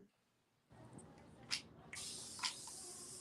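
A handheld spray bottle mists water onto paint on a canvas: two short, sharp hissing spritzes close by, with a steady background hiss between them.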